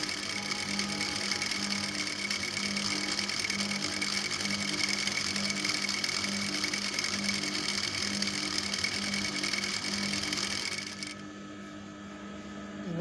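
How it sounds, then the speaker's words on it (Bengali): A sewing machine runs steadily as it stitches the two legs of a skirt-style palazzo together, a close, fast mechanical whir and rhythmic needle clatter that stops near the end, leaving quiet room tone. "এবারে আমি সেলাইটা দিয়ে নিচ্ছি।"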